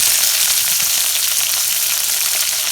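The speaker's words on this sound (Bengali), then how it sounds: "এই দেখেন তেলে দিয়ে শুটকি মাছগুলো ভাইজে নিই" Dried fish frying in hot oil with chili and onion, a steady dense sizzle that stays loud and close throughout, with no talking.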